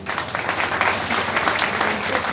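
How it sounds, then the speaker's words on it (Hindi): Audience at a Hindi-language motivational talk on success breaks into steady applause, a dense wash of many hands clapping at moderate loudness throughout the short stretch, with no voices over it. "ये बात तालियां बजा दो।"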